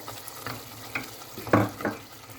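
Yogurt being stirred into mutton korma in a pot, a few soft wet scrapes and squelches spaced out over a quiet background, one louder stroke near the middle.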